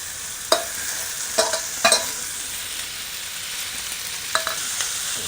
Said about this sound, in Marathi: आता बटाटा टाकून घेतो.